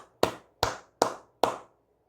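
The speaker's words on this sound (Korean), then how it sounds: "박수 한번 치고 가도록" Four distinct hand claps ring out, evenly spaced and crisp, each with a short room decay, close and clear against silence.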